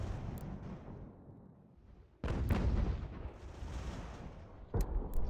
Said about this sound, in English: We have mortar on this side, so it should help us a little bit